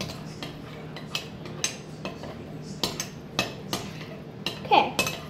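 Glue is being stirred for galaxy slime, with a utensil clinking and scraping against a bowl in irregular knocks, roughly a dozen sharp taps over a quiet background.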